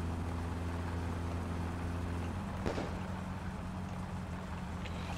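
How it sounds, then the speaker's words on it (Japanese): Idling car engine in My Summer Car running rough with a steady low drone, fluctuating slightly with a brief knock partway through, moderately quiet and without speech. "ちょっと絶対これエンジン不調だよ。"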